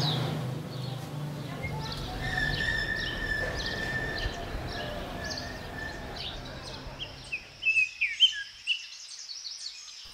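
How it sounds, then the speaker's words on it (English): Morning birds chirp over a dense, busy ambient wash on a Marrakech rooftop garden, with high tweets scattered throughout and a cluster of brighter, closer calls near the end. "I've woken up to the incessant chirps of the birds from my room on the rooftop garden."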